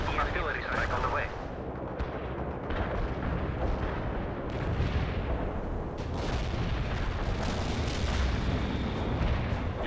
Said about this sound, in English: Commencing the barrage. Providing the artillery strike on the way.